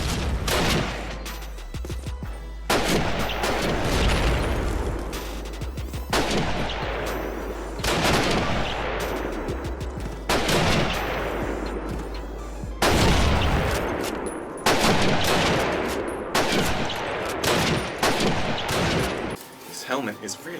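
Rifle fire in Call of Duty 1 gameplay, with repeated loud close shots, each cracking out and decaying into echo, spaced a second or two apart over a steady battle din.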